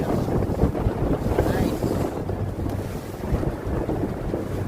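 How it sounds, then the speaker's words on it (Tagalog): A speedboat motors across open water while fishing, its engine drone buried under heavy wind buffeting and splashing waves, with no voices. "Speedboat."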